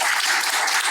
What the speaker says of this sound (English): So can we get a round of applause, please?